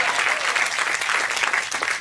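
Loud, steady applause from a church congregation during a Spanish-language service, many hands clapping together close by for a couple of seconds.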